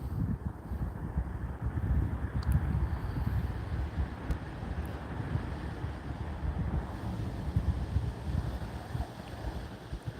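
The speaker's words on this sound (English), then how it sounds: "And now the wind's picking up again." Wind blows outdoors at night near O'Hare Airport in Chicago, a constant low rumbling roar buffeting the microphone in uneven gusts, with faint thin high ticks and no talk.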